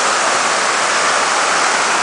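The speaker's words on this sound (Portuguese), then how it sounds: "Principal queda da Cachoeira dos Padres, em Marmelópolis. Impagável a força da água" The main drop of the Cachoeira dos Padres waterfall in Marmelópolis, Minas Gerais, roars as a loud, dense, unbroken wash of falling water heard close up, with no voices over it.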